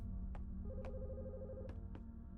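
A telephone rings in the horror video game The Skin Stapler, a faint electronic ring with short repeated pulses over a steady low hum.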